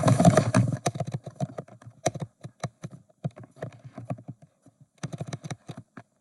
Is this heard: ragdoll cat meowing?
no